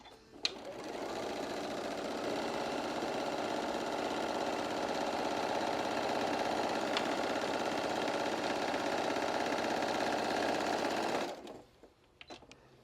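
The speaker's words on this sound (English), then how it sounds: "while you're still at the sewing machine" A sewing machine runs steadily for about eleven seconds, a fast continuous whirring stitch, close by, then stops with a few small clicks.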